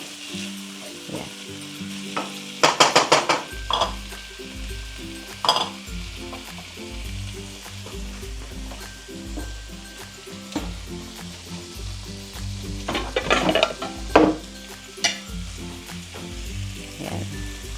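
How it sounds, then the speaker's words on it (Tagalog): Tomatoes sauté in a pan for salmon sinigang, giving a soft continuous sizzle broken by clattering stirs and scrapes of a utensil in bursts, close and moderately quiet. "igigisa natin ang kamatis. Hayaan yung maluto ang kamatis bago nyo ilagay ang isda."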